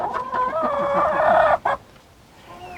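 Chickens at a coop give a close, loud run of clucks and squawks with rising calls, then break off abruptly and leave a quieter background.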